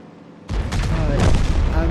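A tank cannon fires once in a video game battle involving an M12 tank, a sudden heavy blast followed by a sustained rumbling roar that fills the rest of the moment.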